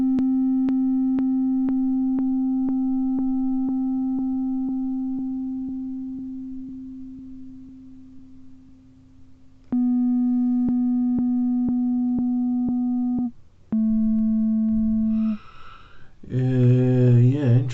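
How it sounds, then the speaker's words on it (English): A modular synthesizer puts out a loud, steady sine-wave tone that holds for several seconds, then shifts pitch in a few stepped jumps, ending in a brief warbling, chirpy sweep. No one speaks. "Let's take a sine wave output from there"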